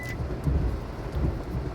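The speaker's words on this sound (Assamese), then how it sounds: "এয়া বৰ্তমান সময়ত চাওক মুখলধাৰ বৰষুণ, ধাৰাসাৰ বৰষুণ" Heavy torrential rain in Nazira, a brief dense low rushing roar with faint soft thumps, steady and close.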